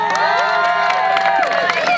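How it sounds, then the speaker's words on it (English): A rally crowd protesting the Rockwool plant in West Virginia cheers and whoops loudly with some clapping, a dense mass of shouting voices close by and sustained throughout. "let's give a big round of applause for Sharon"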